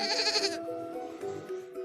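A single sheep bleats loudly and close, one wavering cry lasting about half a second, followed by quieter animal sounds and low background noise.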